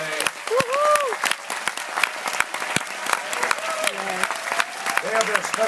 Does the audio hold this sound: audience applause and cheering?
yes